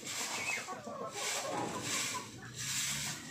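Chickens wander around a yard, giving soft, low clucks against a hissing outdoor background, fairly close but quiet, with no one talking.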